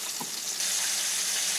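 Flour-coated turkey tenderloins frying in hot oil, giving a steady loud sizzling hiss with a brief bubbling spike near the start, and no voices.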